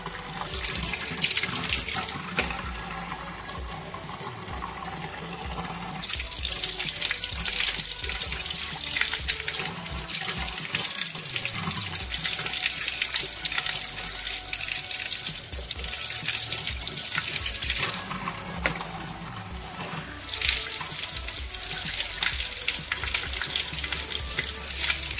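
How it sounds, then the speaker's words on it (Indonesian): Date seeds rinsed clean of leftover fruit flesh under a steadily running tap, a continuous loud splashing rush of water into a sink with shifting intensity throughout. "Kita cuci, kita buang sisa-sisa dagingnya."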